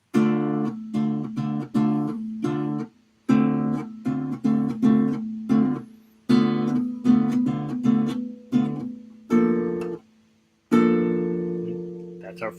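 Guitar plays the intro of a song as a series of clear, plucked notes and short chords, each decaying before the next, moderately loud and close with a few brief gaps.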